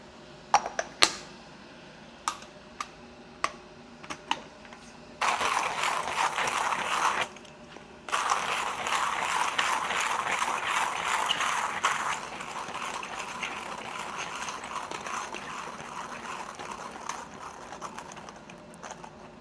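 A coffee grinder works through 15 grams of beans: a few sharp clicks first, then a loud steady grinding whir that runs on, with a brief break, to the end.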